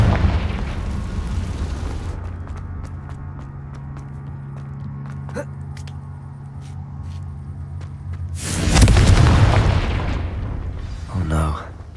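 A Confringo fire spell bursts in the Hogwarts Legacy video game: one loud, sudden blast breaks over a low rumbling ambience late in the clip, followed by a smaller burst.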